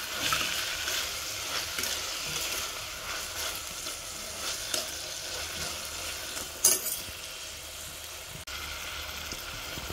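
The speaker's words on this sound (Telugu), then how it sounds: "టమోటాస్ని కూడా వేసేసి మనం ఇవన్నీ మిక్స్ అయ్యే వరకు కలపాలన్నమాట." Tomatoes are stirred into hot oil in a pan for a dry fish curry with dosakaya, giving a continuous close sizzle broken by scraping spoon strokes and a brief clatter.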